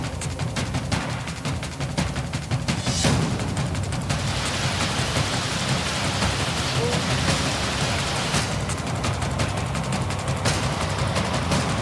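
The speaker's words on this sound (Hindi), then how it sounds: "महाराष्ट्र में बारिश का कोहरा" Heavy monsoon rain pours down in Maharashtra, a loud, dense, continuous roar of downpour hitting surfaces, steady throughout with no breaks.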